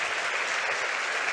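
Audience at a financial planning symposium breaking into a dense, steady round of applause, sustained and even throughout with no gaps.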